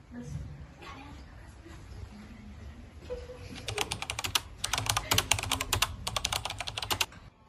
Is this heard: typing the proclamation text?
yes